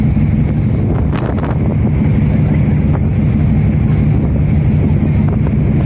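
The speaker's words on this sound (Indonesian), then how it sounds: "Cuacanya anginnya kenceng banget ya teman-teman," Strong wind on a ferry crossing the Sunda Strait roars and buffets the microphone nonstop, mixed with drizzle, with a low engine rumble and the wash of water beneath.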